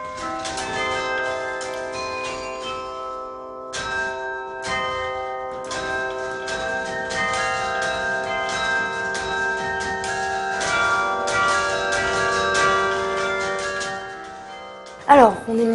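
Carillon bells ring out from the Taninges church tower, many tuned bells playing a continuous melody with long overlapping resonance, loud and close, with a sharp knock near the end.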